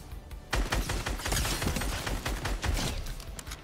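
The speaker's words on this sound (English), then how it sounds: "we're being sniped up by a real player, though" Sniper gunfire in Fortnite: a dense burst of sharp, loud cracks and rapid shots erupts suddenly and continues in a chaotic volley for several seconds.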